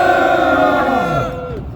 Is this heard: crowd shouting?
yes